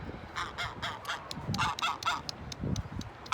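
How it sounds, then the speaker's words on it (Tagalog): Several geese honk in a steady chorus of repeated, fairly loud calls near a seaside shore where they are bathing, with overlapping nasal cries throughout and no talk. "Nag-iiyak ang gansa."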